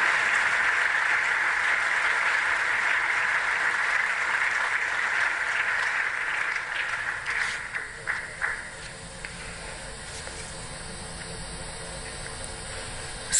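Applause from the audience at the INDOSAN conference inauguration award ceremony builds as a dense wash, then thins into scattered claps and fades into quiet room noise with faint tones.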